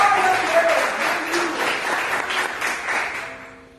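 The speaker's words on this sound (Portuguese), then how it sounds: "Aplauda o nome do Senhor." Church congregation at a Thursday worship service clapping loudly in a dense, continuous wave, with faint voices mixed in, before the applause fades out at the end.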